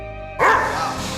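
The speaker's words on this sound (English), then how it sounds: "A new little buddy that I have that kind of keeps me sane is my little golden retriever puppy, Max." A golden retriever puppy barks once in a gym, a sudden close yip that rises sharply and fades into roomy background noise.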